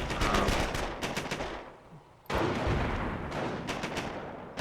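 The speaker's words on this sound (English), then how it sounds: "These grease guns are going to take him down." Grease gun submachine gun fire in a Company of Heroes 4v4 match on the Saint Lo map, dense rapid bursts of automatic gunfire that briefly thin out, then resume loudly and keep going.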